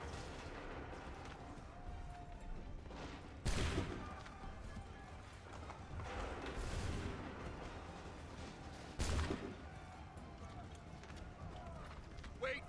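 Massed musket volleys in Assassin's Creed III crack out in two sharp bursts amid a busy battlefield din of hoofbeats, running and distant booms, with voices calling out underneath.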